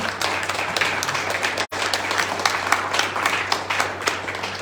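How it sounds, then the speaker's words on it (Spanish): A church congregation claps for the Lord during a Sunday service, a sustained crowd applause with a brief dropout near the middle, steady and fairly full throughout. "Denle fuerte el aplauso al Señor."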